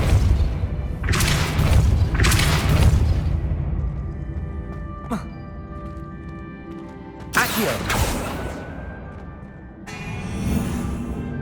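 Depulso spell blasts in Hogwarts Legacy land as several heavy, booming thuds and whooshes, two in quick succession early on and more after quieter gaps, mixed with intermittent game voices.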